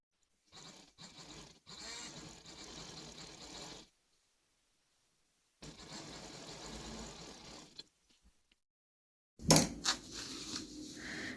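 A sewing machine stitches a cuff strip onto a gents' kameez in two steady whirring runs separated by a pause, followed by a louder clunk and a brief final burst.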